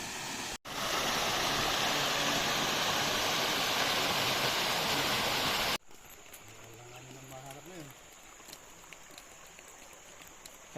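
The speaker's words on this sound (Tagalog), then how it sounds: "nandito na tayo sa Bokong Falls" Bokong Falls, a waterfall in Sagada, roars as a dense, loud and close wash of rushing water for several seconds, then cuts to a quieter, more distant outdoor scene where the falling water carries on softly beneath faint sounds.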